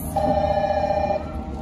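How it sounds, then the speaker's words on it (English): A single electronic telephone ring from a rescue team's phone, heard during a sea lion show at SeaWorld, sounds for about a second as a steady warbling tone over low background rumble, then stops. "That's the SeaWorld Rescue phone now."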